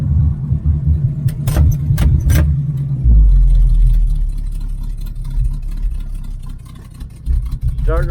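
A 1980 Camaro Z28 V8 with new headers runs at close range, a steady low engine rumble throughout with a heavier surge partway through, plus a few sharp metallic clicks early on.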